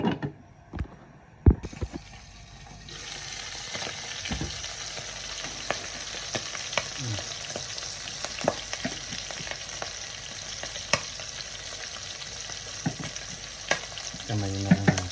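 Onions fry in cooking oil in a pan. A few clatters come first, then a bright, steady sizzle and crackle sets in at close range, with occasional knocks of stirring and no talk.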